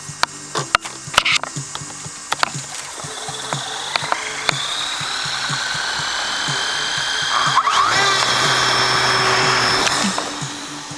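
A Durafly AutoG model auto gyro's motor and rotor spin up after a few sharp clicks, a thin electric whine climbing in pitch and growing louder, then holding steady near the end.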